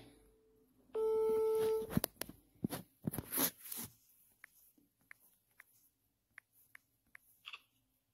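After hanging up to call back, a telephone gives a steady electronic tone lasting about a second, followed by scattered clicks and a series of short, quiet beeps at an even pace.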